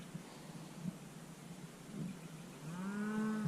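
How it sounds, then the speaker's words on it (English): A single cow moos from a distance, long and low, near the end, over faint outdoor rustling and hiss. "It sounds like all the cows are down there."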